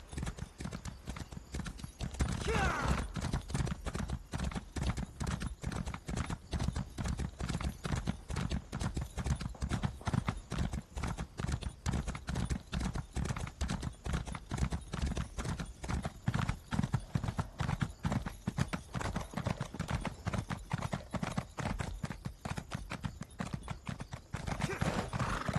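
Horse hooves clip-clop in a steady, fast rhythm throughout in the video game Elder Scrolls Online, loud and close, with an occasional whinny and no talking.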